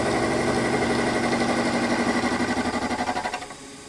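A milling machine starts at about 500 RPM, taking half-millimetre cuts in metal lubricated with WD-40 while making bespoke hinges. It gives a steady, loud mechanical hum with a rhythmic pulsing that shifts near the end, with no speech.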